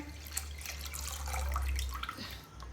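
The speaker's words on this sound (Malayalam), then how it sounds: "നമുക്ക് ഈ പാത്രത്തിൽ ആ ഉരുളക്കിഴങ്ങ് മുങ്ങാനും വേണ്ടിയുള്ള വെള്ളം എടുക്കുക" Water runs steadily into a bowl for soaking potatoes, with a low rushing stream and faint splashing, close by, swelling slightly in the middle before easing off.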